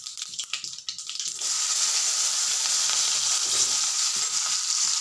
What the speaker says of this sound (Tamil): கடுகு வறுத்து நம்ம போட்டுக்கலாம் கடுகு நல்லா பொரியட்டும்